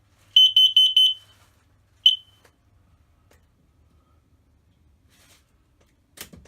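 Combined carbon monoxide and smoke alarm in an RV trailer running its self-test: a quick run of four loud, piercing beeps, then one more beep, followed by near silence with a faint click at the end.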